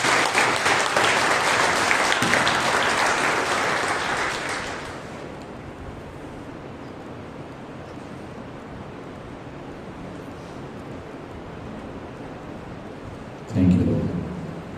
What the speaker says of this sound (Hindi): एक जोरदार ताली बजाकर प्रभु का स्वागत.